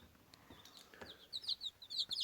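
Newly hatched chicks, a day or two old, peep softly in a small incubator box, with a few faint, high chirps clustering toward the end.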